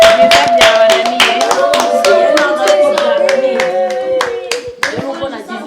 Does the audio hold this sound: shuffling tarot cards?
no